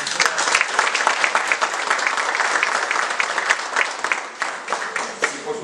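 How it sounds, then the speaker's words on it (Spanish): An audience of older adults and health-centre staff claps steadily for a woman who leads a senior citizens' group, a dense, loud, sustained round of applause with no talk over it. "También un aplauso para la señora Margarita"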